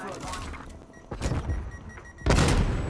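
A strafe run scorestreak attack in Call of Duty Cold War, a burst of heavy gunfire and booming impacts that swells loudly near the end, with a voice talking over parts of the barrage.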